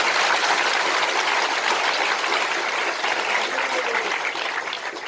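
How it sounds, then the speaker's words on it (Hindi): A large audience at a spiritual discourse claps together in a dense, sustained wave of applause that fades slightly toward the end. "ताली बजाओ और सबका अभिनंदन।"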